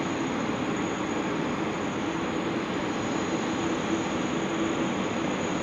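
A Qantas Boeing 787 taxiing toward the runway at Sydney Airport gives off a steady, even jet rumble with a faint high whine, heard from a distance without letup.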